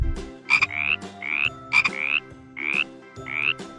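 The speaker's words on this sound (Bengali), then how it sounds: "ইঙয়ে ব্যাঙ" A frog croaks in a quick repeated rhythm, several sharp rising calls close and clear with no talk.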